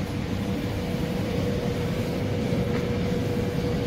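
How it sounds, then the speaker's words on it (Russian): A train arriving at a station rumbles steadily at close range, a continuous low mechanical drone with a faint tonal hum and no voices. "Приехал поезд."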